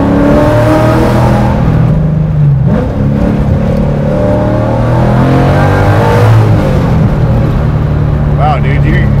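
A 1965 Ford Mustang fastback with a Boss 302 engine roars loudly under acceleration, its pitch rising and falling through gears from inside the car, with people talking over the constant engine drone.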